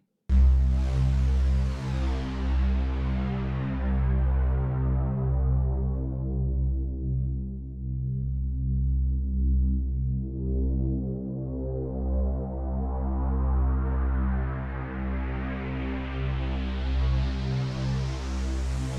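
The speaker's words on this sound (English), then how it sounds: "So let's set up our filter and sweep through that." A dense, buzzing synthesizer pulse-wave chord made of many stacked oscillators, its filter closing down to a dark drone and then sweeping back open to a bright hiss.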